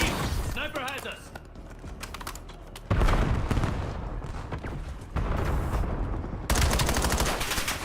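Constant gunfire crackles through a Call of Duty: Black Ops 7 beta match, with sniper shots among dense rattling bursts and a voice talking over the loud, busy battle.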